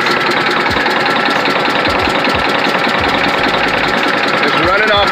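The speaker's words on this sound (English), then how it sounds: "It's running off of 2 cylinders apparently." Detroit Diesel Series 60 11.1 engine with a hard start, running rough on only two cylinders: a loud, uneven chugging idle with irregular knocks and vibration, heard close up with people talking over it.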